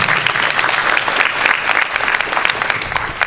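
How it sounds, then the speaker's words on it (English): A school assembly audience gives a round of applause, a steady, loud wash of many hands clapping with no break. "Please give him a round of applause."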